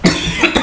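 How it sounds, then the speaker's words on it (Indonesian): A single person coughs near and loud, a short harsh burst followed by a couple of smaller rough expulsions, heard alone indoors. "Batuk."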